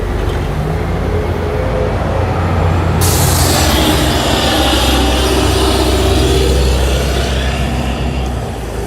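Natural gas-powered city bus engine in Los Angeles, a loud, steady roar like a jet plane that suddenly swells into a broad, hissing whine and holds nearly the whole time.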